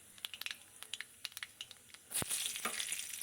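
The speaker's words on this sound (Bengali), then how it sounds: "কড়াইতে আমি সাদা তেল দিয়ে দিলাম এখানে কালো জিরে ফোড়ন দিলাম" Nigella seeds temper in hot white oil in a wok, first crackling as sharp scattered pops, then breaking into a louder continuous sizzle, fairly faint overall.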